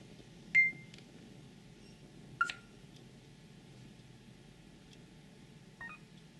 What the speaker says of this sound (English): I have it on the timer.